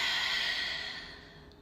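One long, soft exhale of breath during a yoga flow. The airy breath is close and steady, then slowly fades away, with no talking over it.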